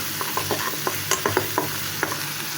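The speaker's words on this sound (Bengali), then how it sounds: "আদা রসুনটা আমি একটু ভালোভাবে ভেজে নিচ্ছি যাতে আদা রসুনের গন্ধটা না থাকে।" Ginger garlic paste fries in a pan for a mustard drumstick curry, sizzling steadily while a spoon scrapes and stirs in a quick series of close, sharp clicks.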